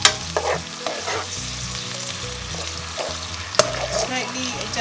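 Blended onion, garlic and ginger sizzle steadily in a hot pan for a mee rebus paste, with a utensil scraping and stirring through it in irregular strokes, close and continuous.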